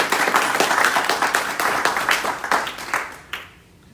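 A round of applause from a small audience, steady dense clapping that thins into a few last claps before fading to near silence.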